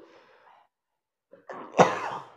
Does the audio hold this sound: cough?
yes